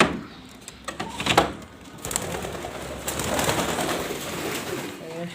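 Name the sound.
pigeons cooing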